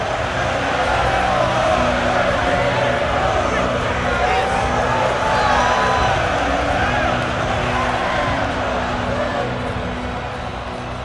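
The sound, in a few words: arena crowd cheering in the EA UFC video game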